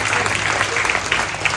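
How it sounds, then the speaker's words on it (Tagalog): A church congregation applauds continuously in a worship service, a dense steady patter of many hands from start to finish. "Isang malakas na palakpak muli para sa ating Panginoon."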